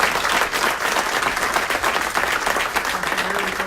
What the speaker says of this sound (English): Let's give a round of applause for the law enforcement.